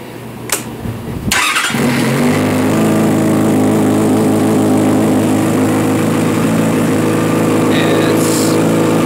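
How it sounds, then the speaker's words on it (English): A cold, fuel-injected 2009 Yamaha FZ6 Fazer motorcycle engine with 160 miles on it cranks and catches after a brief silence, then settles into a loud, steady, close-up idle with a throbbing low rumble. "as you can see, it's a cold engine."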